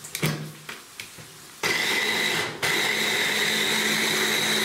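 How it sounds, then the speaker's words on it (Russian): Fresh tomatoes being pureed in a kitchen blender, a few lid and handling clicks, then a loud steady motor whine that dips briefly before resuming at full speed. "И взбиваем до однородности."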